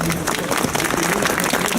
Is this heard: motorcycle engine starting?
no